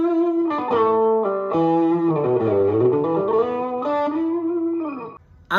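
Distorted electric guitar lead tone from a TANK-G multi-effects pedal, a close, loud melodic phrase of sustained and bending notes with a slight chorus shimmer, alone without talk.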